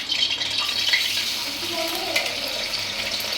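Fish rubbed with salt, turmeric and oil frying in a pan of hot oil over a high gas flame, giving a steady, moderate sizzle and hiss with faint crackles.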